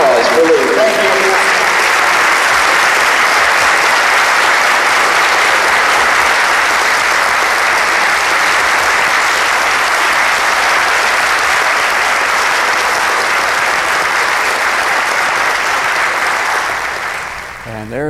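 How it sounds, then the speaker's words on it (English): Loud, sustained audience applause filling a theater at the end of a show, a dense unbroken roar of clapping that tapers off in the final seconds. "One more big round of applause for Lee."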